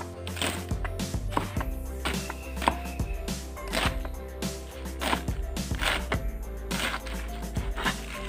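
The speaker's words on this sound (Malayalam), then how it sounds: "ഇങ്ങനെ കീറി കീറി ഇങ്ങനെ കൂട്ടി വച്ചിട്ട് നമുക്ക് ഇത് ചെറുതായിട്ട് അരിഞ്ഞു കൊടുക്കാം." Knife finely chopping a stacked pile of torn taro (colocasia) leaves for a Kerala thoran, a steady run of crisp close thwacks on a board, roughly two per second.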